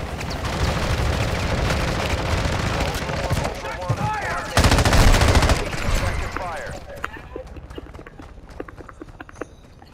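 Rapid video game gunfire rattles in dense, loud bursts with clattering and thumping impacts, broken by a heavier blast midway before fading into sparser noise.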